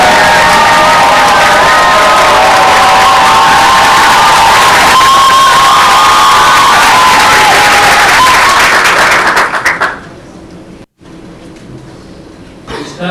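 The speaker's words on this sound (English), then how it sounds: "Let's all welcome Director Young Ming Chung with a big round of applause." A conference hall audience at a peace education event bursts into loud, sustained applause with cheering and whoops, a dense roar of clapping that holds steady for nearly ten seconds before cutting off abruptly into near silence.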